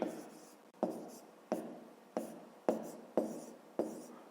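Pen or pencil writing numbers by hand on paper for a fifth-grade maths exercise, a series of about seven sharp strokes at a steady rhythm, close and fairly quiet.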